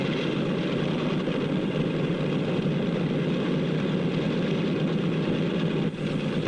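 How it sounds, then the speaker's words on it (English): A 1948 propeller airliner taxiing toward the runway at an airport, its engines droning steadily and loudly throughout with a constant, even roar. "The plane starts over to the runway."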